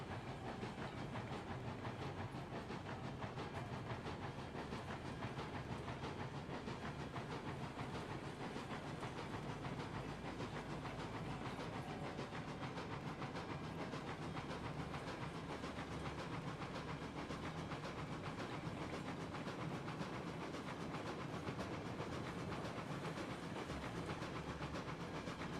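A steam locomotive in Railroads Online builds boiler pressure with a steady, dense hiss and rumble that holds unchanged throughout, with faint rhythmic clicking underneath and no talk.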